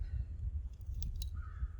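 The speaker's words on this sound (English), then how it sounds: "I don't know what kind of bird that is." A distant crow-like caw rings out a couple of times over a low rumbling background.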